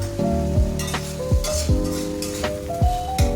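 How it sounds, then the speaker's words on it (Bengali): Vegetables frying for chilli paneer crackle in a pan close by while a utensil stirs them. Repeated scraping strokes come at a steady rhythm over the constant sizzle, and there is no voice. "এবার সবজিগুলো ভাজা ভাজা হয়ে গেলে"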